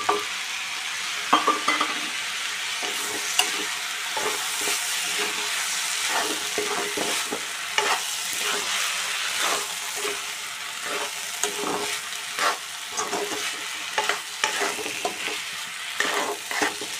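Washed lentils added to spices frying in a pan, hissing and sizzling steadily with repeated scrapes and stirs of a utensil against the pan, close and continuous with no talk.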